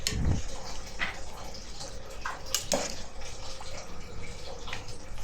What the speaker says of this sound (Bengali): চাউলের ভিতরে কাঁচা মটর দিয়ে পরিমাণ মতো পানি দিয়ে দেবো